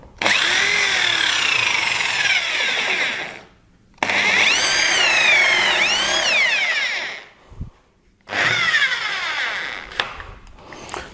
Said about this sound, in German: Jetzt spannt ihr diese komplette Bohrkrone in eure Bohrmaschine oder in den Akkuschrauber ein.